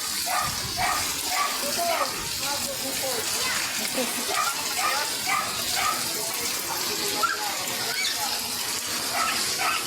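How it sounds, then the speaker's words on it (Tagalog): Continuous rain falling outdoors, a steady broadband hiss and patter throughout, with people talking over it at moderate level. "patuloy-tuloy na naman ang ulan"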